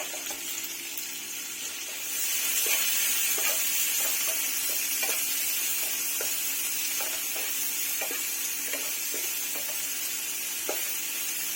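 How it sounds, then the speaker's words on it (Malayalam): Chopped onions sautéing with salt in a pan for mushroom masala give a steady, close sizzle that swells after a quieter start, with occasional scrape-like stirring ticks and no talking. "ഒന്ന് വേഗം വഴണ്ട് കിട്ടാൻ വേണ്ടിയിട്ടാണ് ഞാൻ ഉപ്പ് ആദ്യമേ ഇട്ട് കൊടുത്തത്. അപ്പോൾ സവാള ഞാൻ ഇട്ട് ഓൾറെഡി."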